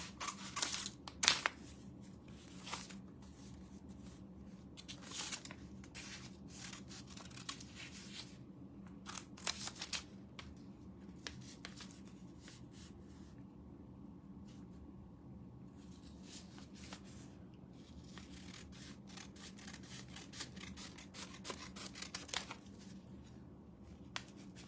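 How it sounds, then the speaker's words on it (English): Scissors snip out pieces while a chair is repurposed, with quiet, irregular clicking cuts spread steadily throughout, close and faint with no talk. "so I'm gonna cut the rest of these out."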